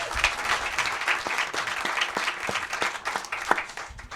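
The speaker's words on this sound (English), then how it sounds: "Give him a round of applause for that." Sustained applause from an audience at a book festival talk, dense steady clapping with a few sharper claps standing out, filling the whole stretch without voices.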